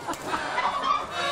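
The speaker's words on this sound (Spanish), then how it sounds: "Mira la gallina." A hen clucking on a small rural farm holding many animals, including sheep; a short run of soft, broken clucks close by, with no talking over it.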